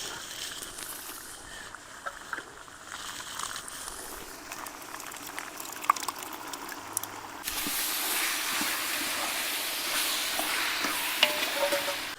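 Coriander, tomato and salt sauté in a large pot for a big batch of mutton biryani, with scraping stirs and a sizzle that swells louder and hissier about halfway through.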